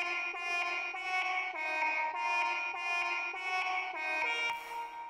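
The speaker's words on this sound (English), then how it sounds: "I made a simple lead following the bass line or the 808 or whatever you want to call it that goes like this." A simple synth lead in FL Studio plays a rhythmic pattern of bright, brassy, horn-like notes following an 808 bass line, about a dozen evenly spaced stabs, clear and alone.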